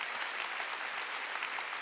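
A church congregation claps together in steady, continuous applause during a Sunday worship service, soft and a little distant, with no voices standing out.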